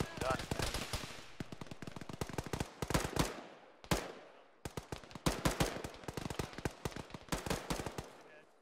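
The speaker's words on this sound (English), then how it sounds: "Well, the gunfire is what shot me in the head." Rapid automatic gunfire from a military shooter video game, loud bursts of sharp cracks in repeated volleys with brief pauses, close and intense, with speech faintly underneath.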